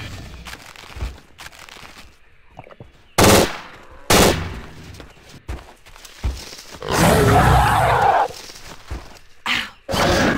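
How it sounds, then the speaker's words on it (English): Beretta 93R machine pistol in the video game Trespasser firing full auto, loud rapid bursts of gunfire separated by quieter gaps, with one long sustained burst near the end. "B93R is a ridiculous gun. It fires way faster than is manageable for a friggin' pistol."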